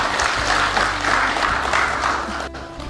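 An audience at a gathering of the Aliansi Borneo Bersatu applauds in a dense, loud, sustained roar of clapping that fills the whole moment.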